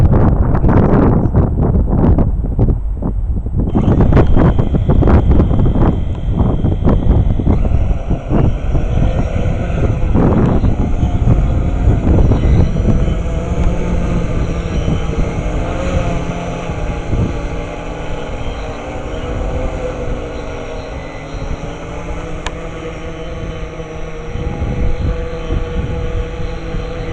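A modified Mavic drone takes off and flies in manual mode in wind of around 20 km/h, its loud, steady rotor whine blended with heavy continuous wind rumble on the microphone throughout.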